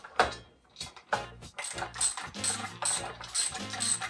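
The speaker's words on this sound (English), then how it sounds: "Here we're going to use the 9/16 set of wrenches." Wrenches, 9/16 size, tightening a 3/8 neoprene bolt nut on a bumper hook, giving a run of close metallic ratcheting clicks and scrapes in rhythmic bursts.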